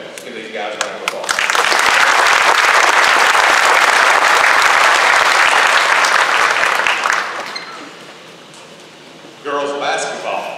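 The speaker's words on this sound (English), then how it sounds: "Let's give these guys a round of applause" An audience claps for the archery team at a graduation ceremony, with the applause swelling and then holding steady for several seconds before fading. A voice is heard briefly at the start and again at the end.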